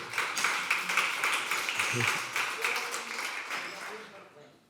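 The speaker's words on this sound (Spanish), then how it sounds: "Pues un aplauso" Applause from the audience at a library conference talk, a dense burst of clapping that holds steady and then fades out toward the end, with some voices mixed in.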